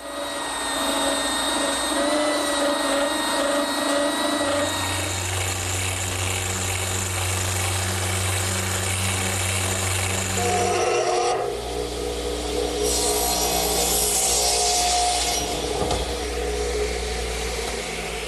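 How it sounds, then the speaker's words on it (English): A belt sander runs loudly and continuously, sanding wooden dowels flush, its motor whine and grinding steady, with the pitch shifting partway through. "now I'm sanding the dowels flush using my belt sander"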